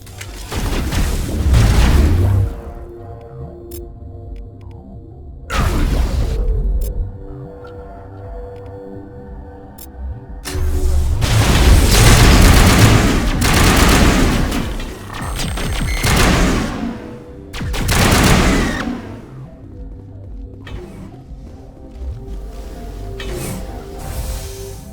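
Gunfire in the video game Mass Effect, with heavy booming volleys and explosive bursts that come in several loud waves, separated by quieter stretches of low electronic hum and music.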